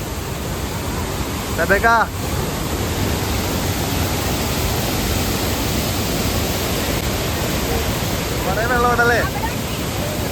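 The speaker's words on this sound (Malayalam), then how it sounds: "ഇവിടെ മുഴുവൻ ഭയങ്കര സ്വരമാണ് വെള്ളച്ചാട്ടത്തിന്റെ" Roar of the Ripple waterfall near Munnar, a steady broadband rush of falling water filling the whole scene, with brief voices rising above it near the start and again near the end.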